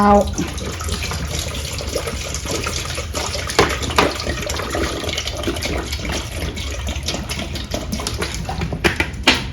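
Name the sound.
plain water being poured for soup broth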